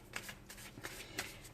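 Crisp riffling bursts of a card deck being shuffled, several quick flutters in succession, close and fairly quiet with no talking.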